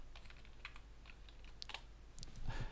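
Fingers type on a computer keyboard, entering a search into a blog search engine, with irregular soft clicks and a few sharper taps in a quiet room, without talk.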